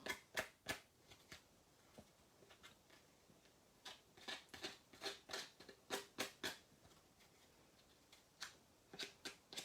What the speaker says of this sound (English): And my scissors work just as well.